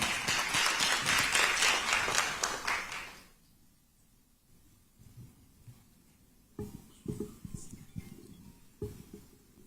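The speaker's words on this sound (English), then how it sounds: "please help me with a big round of applause" At an awards night, the crowd claps loudly for about three seconds before the applause fades into a hushed room broken by scattered soft thumps and knocks.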